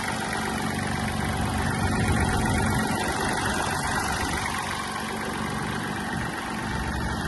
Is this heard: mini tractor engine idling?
yes